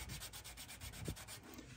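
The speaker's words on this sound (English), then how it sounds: "Wrap it nice and tight so that it stays flat. And then we're going to sand across these runs." 600 grit sandpaper wrapped tight and flat is rubbed across paint runs on a C10 project, making a faint, steady, rhythmic scratching of quick back-and-forth strokes.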